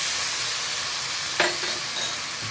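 Spice masala with garlic paste frying in a pan for a chicken dish, giving a steady close sizzle throughout with a brief stir or scrape near the middle.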